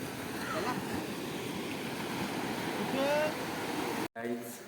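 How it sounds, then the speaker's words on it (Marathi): Sea waves and steady wind at Malvan beach at sunset, a continuous broadband wash of surf and gusts buffeting close to the microphone, cutting off abruptly near the end. "मस्तपैकी वारा लागतोय, पाणी उभरत चाललाय"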